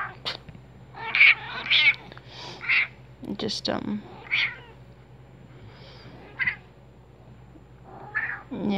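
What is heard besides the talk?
cat meowing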